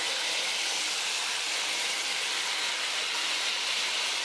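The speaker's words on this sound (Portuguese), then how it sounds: "Eu vou selar toda essa carne por fora, fritando" Pork loin sears and fries in very hot oil in a pan, giving a steady, loud, close sizzling hiss that continues unbroken without talk.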